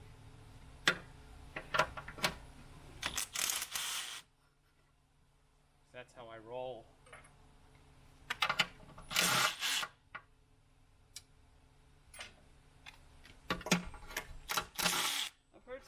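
Valve cover bolts come out of a Jeep Cherokee engine with bursts of ratchet clicking and sharp metallic ticks, loud and close, broken by quiet pauses, with someone briefly talking in between.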